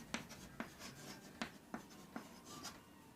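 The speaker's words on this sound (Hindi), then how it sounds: "लिखते हैं" Pen or chalk writing out a determinant expansion, a series of about seven short scratchy strokes and taps in an irregular rhythm, close and quiet, with no talking.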